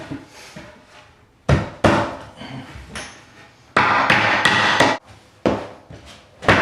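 Hammering while installing a 3/4-inch plywood subfloor board in a rotted-floor repair: loud, close, sharp blows in irregular clusters, some single strikes and some quick runs of several hits, with short quiet gaps between.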